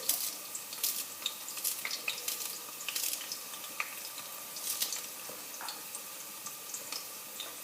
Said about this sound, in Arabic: خليه يتقلى شويه البصل كما تشوفوا